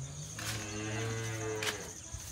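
A calf at a family home lets out one drawn-out, close moo that rises and holds for about a second, then tails off over a quiet background.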